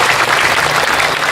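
Audience applause at an outdoor village performance, a dense, steady wash of many hands clapping, loud and close, filling the whole moment without a break.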